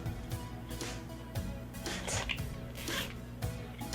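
A zipper is pulled in several short, scratchy runs, close by and fairly quiet, with pauses between pulls.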